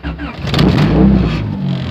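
A Honda Civic EK fitted with an H22 engine starts up: a brief crank, then the engine catches and rises into a loud, close rev before settling to a steady idle, with a voice speaking over it.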